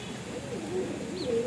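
Siraji pigeon cooing in low, rolling murmurs that rise and fall continuously, with a brief higher chirp near the end and faint background noise.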